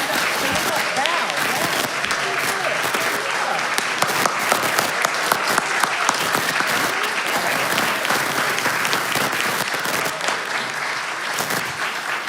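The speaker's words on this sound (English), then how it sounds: "let's just take this opportunity to offer another big round of applause for all." A church congregation applauds steadily at a children's Christmas pageant service, a dense, sustained wash of many hands clapping close by for the full length without a break.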